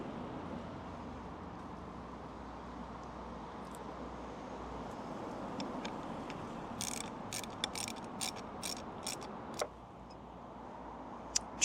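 Metal spanner tightening a bolt while fitting Barkbuster handguards to a Ducati Desert X motorcycle, heard as a run of faint, close ratcheting ticks and clicks in short bursts over steady background hum, ending with a sharper click.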